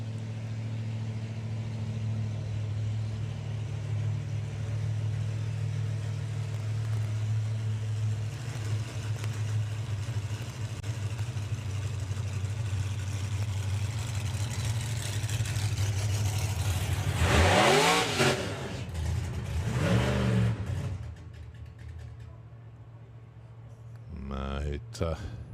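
Supercharged outlaw drag racing car Al Capone at Santa Pod Raceway, a loud rough engine idling and burbling, rising into heavy revs before cutting off, with a commentator talking over it throughout.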